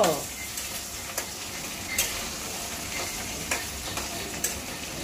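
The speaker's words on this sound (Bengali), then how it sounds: "এই যে মাছ ভেজে ফেলছি" Fish fries in a pan of hot oil with a steady, close sizzle, while a utensil lands occasional light clicks and taps against the pan.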